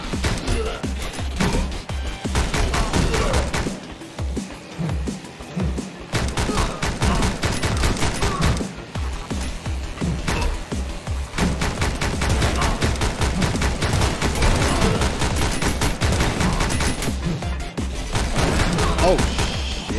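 Rapid gunfire rattles almost nonstop in the Speed Limit train game, dense bursts of loud shots with brief pauses and a few sharper impacts, sustained over twenty seconds.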